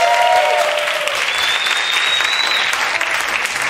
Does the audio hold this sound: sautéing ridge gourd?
no